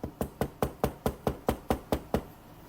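Eleven sharp, evenly spaced knocks on wood, quick and close, each a crisp rap with a short decay, with no voices over them.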